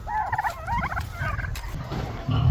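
Turkeys on a farm gobbling in repeated warbling bursts, several calls overlapping close by, with low farmyard rumble underneath and a louder thump near the end.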